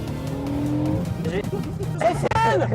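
Renault Mégane 3 RS braking hard, tires squealing briefly under the steady hum of the car, with people talking inside the cabin.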